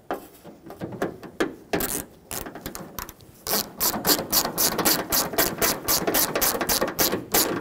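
Small metal fastener being threaded and snugged onto the exterior door handle of a 1995-2004 Toyota Tacoma, a close, steady run of quick ratcheting clicks that grows denser and louder in the second half, with no voices.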